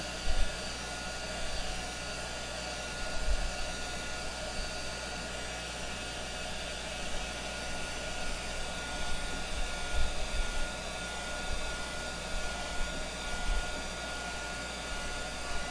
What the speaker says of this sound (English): So we're just blow drying it, heat setting it.